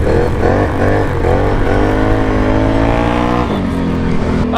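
Tuned 2022 Can-Am Renegade ATV racing at high speed, a loud close engine roar climbing in pitch through repeated shifts, with a brief dip and fresh surge near the end.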